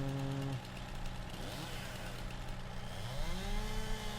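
A chainsaw cuts through a tree in the farming game Farming Simulator 19, its engine droning steadily and changing pitch as the blade bites into the wood, loud and close throughout.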